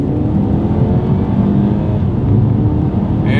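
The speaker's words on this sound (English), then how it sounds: "let's see how quickly we can get our new X2 here up to speed" A 2023 BMW X2 accelerating hard from 0 to 60 mph, its turbocharged engine holding a loud, steady drone throughout with no voices.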